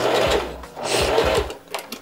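A home sewing machine set to a straight stitch runs in short bursts, its needle whirring in quick rhythmic runs with brief pauses between, close and fairly loud with no talking.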